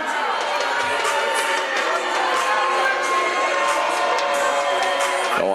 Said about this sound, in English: Oh, a nice sized crowd on hand for tonight's contest.